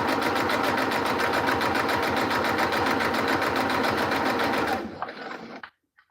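A sewing machine stitches a tote bag seam, running in a fast, steady mechanical chatter for several seconds before slowing and stopping.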